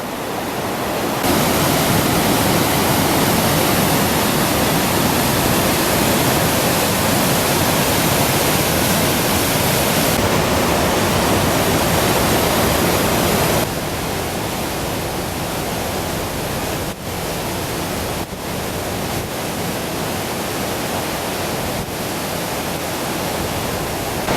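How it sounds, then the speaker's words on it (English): A waterfall in the Columbia Gorge, heard from close to its base, roars as a dense, loud, steady rush of falling water that fills the whole stretch with constant broadband noise and no voices. "when you stand that close to the waterfall, you really can feel the magnitude of water that's coming out of that thing"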